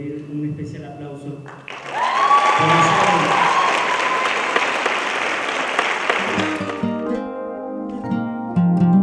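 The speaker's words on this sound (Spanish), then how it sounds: "al cual le quiero pedir un especial aplauso" A crowd bursts into loud, sustained clapping for Eddie after a quieter stretch with a voice, then the applause fades and speech resumes under the tail end.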